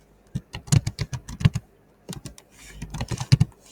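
Fingers type on a computer keyboard while writing JavaScript and HTML code, in close, crisp clicks that come in quick bursts with a short pause midway.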